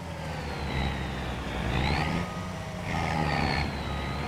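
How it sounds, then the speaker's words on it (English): Truck engine in Farming Simulator labouring uphill on a winter farm map, a low steady drone that rises and strains in two surges with a high whine, no talk. "The truck's not man enough to get up the hill."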